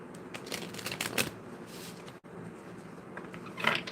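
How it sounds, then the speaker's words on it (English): Tarot cards shuffled by hand in a steady papery riffle that runs throughout, broken by one brief pause midway, close and fairly quiet with no talking. "Let me see what I can shuffle up."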